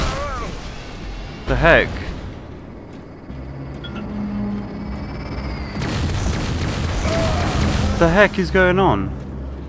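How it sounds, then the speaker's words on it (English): Gunfire and explosions in the video game Hard Reset, booming blasts and bursts of shots scattered through the clip alongside ongoing low rumble, with someone talking over the action. "Oh right, I'm being shot from over there."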